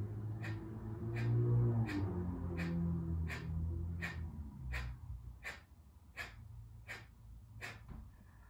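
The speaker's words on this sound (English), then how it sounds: "So what Kapalabhati is a short, sharp exhale." Kapalabhati yoga breathing, about a dozen short sharp forceful exhales through the nose in an even quick rhythm, close and clear, partly over a low hum at the start.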